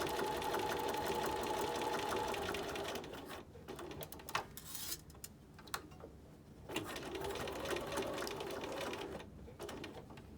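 A sewing machine stitches pleats into a fabric face mask, its steady fast mechanical whir running continuously at close range, easing briefly in the middle before resuming, with no talking.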